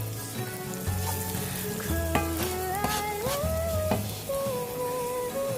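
Onions frying with brown sugar in a pan as they are stirred into a caramel glaze, a steady sizzle running under melodic background music, with a few sharper scrapes and taps along the way.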